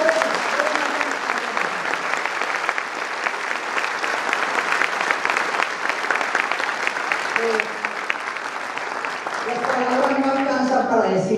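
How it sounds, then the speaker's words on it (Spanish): Audience at a school parents' assembly applauds steadily and loudly in a sustained wash of clapping that carries on to the end, with some voices faintly rising near the close. "En ausencia de él, aplaudámoslo."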